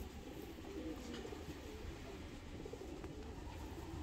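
Soft, low cooing of a checker hen pigeon murmurs continuously beneath a steady background hum, with a few faint chirps.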